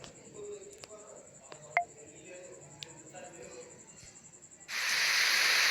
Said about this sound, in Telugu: ఇక్కడ నేను రెయిన్ సింబల్ ఆన్ చేస్తాను.